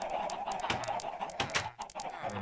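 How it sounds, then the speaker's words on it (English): Several video-game chickens cluck in short, overlapping bursts over a steady synthetic background hum, sounding close and moderately loud. "A lot of chickens."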